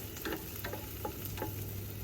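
Chili frying in a pan as spaghetti bolognese sauce browns, a steady close hiss with scattered crackles and pops running throughout, no voices.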